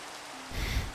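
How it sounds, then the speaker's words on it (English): Rain falls in Minecraft as a steady hiss that swells louder with a low rumble in the last half second of a one-second stretch. "It's raining again."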